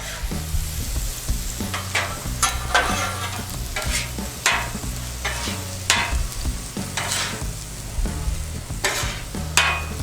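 Cheesesteak meat and vegetables sizzle steadily on a 36-inch Blackstone griddle while a metal spatula scrapes and clacks in an irregular rhythm, close and loud, with no talking.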